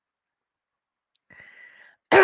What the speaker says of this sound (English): sorry, I'm coughing now.